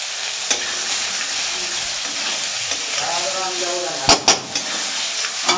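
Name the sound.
olives being sautéed and stirred in a pan for pickle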